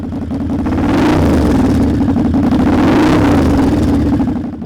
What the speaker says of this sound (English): Maybe that engine revving noise you just heard